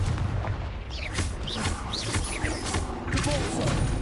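Repeated Confringo fire-blast spells go off during combat in the Hogwarts Legacy video game, a series of booming explosive thumps with whooshing effects over continuous battle noise.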